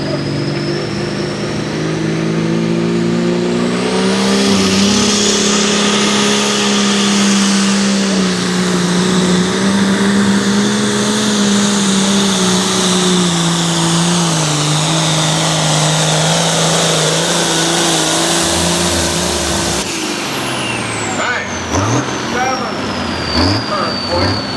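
A Cummins diesel engine in an Oliver pulling tractor revs hard at a truck and tractor pull in Boonsboro, a loud, sustained roar with a droning pitch that rises and falls before a sharp change near the end.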